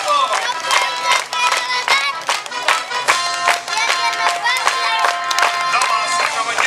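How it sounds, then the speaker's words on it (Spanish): Children and adults clapping at a clown show in Lo de Marcos, Puerto Vallarta, a lively run of sharp claps with crowd noise and music-like tones mixed in throughout. "Aplaudiendo fuerte todos en ese espacio."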